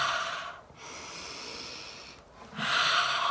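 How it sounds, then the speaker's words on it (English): A person takes slow deep breaths, two long airy inhales and exhales close to the ear, with a brief pause between them and no talking. "Another thing is taking deep breaths."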